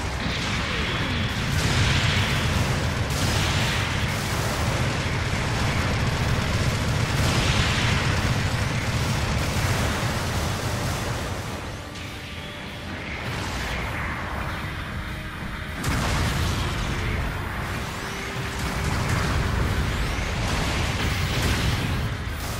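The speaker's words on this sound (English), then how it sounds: "Sometimes you just gotta fire missiles at a guy" Missiles launched from a mobile suit in the mech game Gundam Battle Operation 2, heavy booming blasts and rumbling explosions rolling on continuously, with a brief lull midway before the barrage resumes loud and close.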